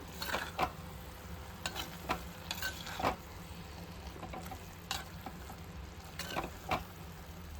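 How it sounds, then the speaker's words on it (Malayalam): Green tomato thoran is stirred in a pan with coconut oil, giving a soft, low sizzle and occasional gentle scraping strokes of the spoon, quiet and steady with no voices. "നന്നായിട്ടൊന്ന് ഇളക്കി കൊടുക്കുക."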